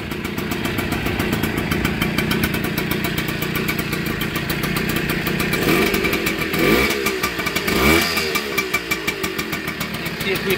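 A 1980 Kawasaki KV75 two-stroke minibike engine running on premix, idling with a rapid buzzy putter and rattly clatter, revving up briefly twice near the end.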